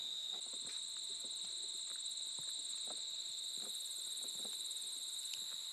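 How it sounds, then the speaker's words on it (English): Crickets at a nature preserve in Sandusky County, Ohio, with two steady high-pitched trilling chirps running continuously and fairly faint, plus scattered soft rustling or footsteps. "There's plenty of crickets down here."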